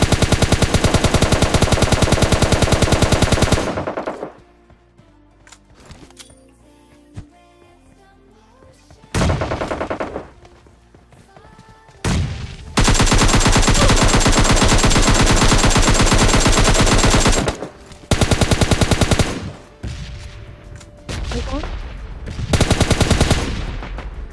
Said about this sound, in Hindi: फायरिंग की आवाज आ गई होगी, मतलब सामने वेयर हाउस में बंदे हैं